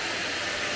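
A cheap handheld vacuum cleaner with a very long cord runs close and loud with a steady, even broadband whoosh, alone with no talking.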